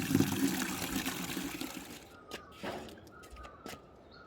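Spring water at a mountain stream source runs steadily as containers are filled, a broad rushing flow for about two seconds, then quieter trickling with a few brief splashes and light knocks.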